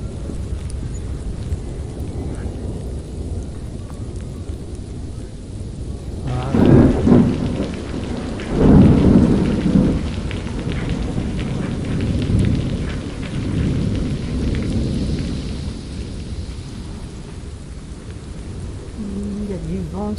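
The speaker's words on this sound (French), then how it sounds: "Incroyable, mais on essuie de la pluie." Rain falls steadily during a thunderstorm in a Tunisian village, with a constant hiss of drops and low rolling thunder swelling loudly twice near the middle before easing back under the rain.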